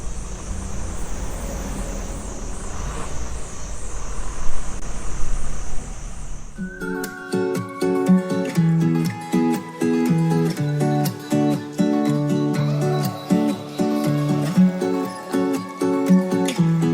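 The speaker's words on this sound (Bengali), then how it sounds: "শুধু ঝিঝি পোকার আওয়াজ। একবার শোনো তোমরা।" Crickets in a forest along a road in Sikkim make a steady, wavering high-pitched drone over low vehicle rumble for the first six seconds, then music abruptly takes over.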